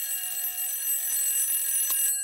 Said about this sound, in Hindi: हे भाई, ये अलार्म अपनी बेटी को उठाने के लिए लगाया है या पूरे मोहल्ले को?